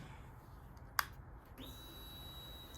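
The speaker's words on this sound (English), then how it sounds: "It's a fuel pump." A fuel pump priming on a Honda VTX 1800 motorcycle: a sharp click, then a steady, thin electric whine that starts and holds evenly, quiet and close.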